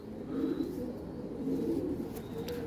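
A Rampuri pigeon coos in a low, steady, throaty murmur, close and continuous, with a few faint higher chirps near the end.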